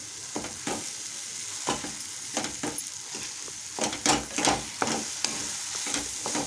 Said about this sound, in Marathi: त्याला व्यवस्थित असं आपल्याला मॅस करून घ्यायचं आहे